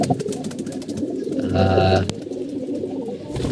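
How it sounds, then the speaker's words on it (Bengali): A pigeon kept by a Bangladeshi pigeon keeper gives a single close, loud coo lasting about half a second, set against a steady background of ambient noise. "কবুতরটা অনেক সুন্দর একটা কবুতর"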